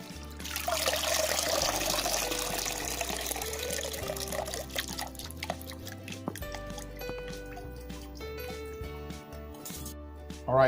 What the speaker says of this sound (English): going to wash up the greens in some nice, cool cistern water